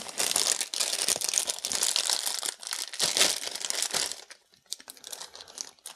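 Plastic packaging bags crinkle and rustle as DUNU DaVinci earphones are unpacked, a dense close crackling for about four seconds before easing into sparser, quieter rustles.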